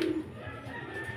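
Racing pigeons coo softly in a loft, a short low murmuring burble with faint background noise and no talk.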